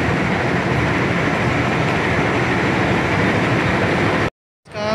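Walahar Express local train at a large covered station platform, giving a steady, loud rumbling roar of rolling rail noise that continues without a break, then abruptly cuts to silence.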